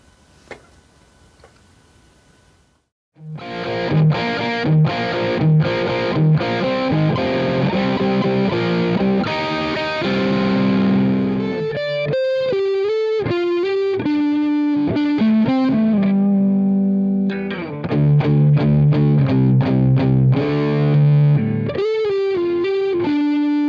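Electric guitar played through a distortion pedal from Missing Link Audio, loud and saturated, with rhythmic chugging chords, then single-note riffs and sustained bends after a quiet start, heard alone without talk.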